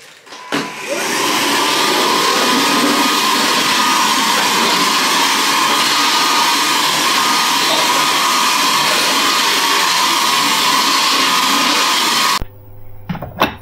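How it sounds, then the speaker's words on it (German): A vacuum cleaner runs loud and steady for about twelve seconds with a constant whine, then switches off abruptly. "Muss ich mit dem Staubsauger wegmachen."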